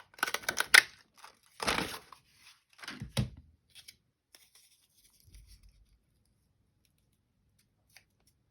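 Scissors cut apart a paper craft pocket in about three crisp, close snipping bursts, followed by a few faint rustles and taps, then near silence.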